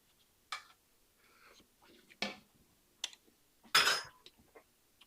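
Ube tres leches ingredients being mixed in a bowl, giving several separate short scraping and clinking bursts of utensil against bowl with quiet gaps between them, close and fairly soft.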